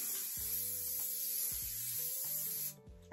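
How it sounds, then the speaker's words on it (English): Hairspray hisses in a steady, continuous spray from an aerosol can onto hair, running close and loud for nearly three seconds under soft music before stopping. "I'm going to get my hairspray, turn my head upside down and shake it."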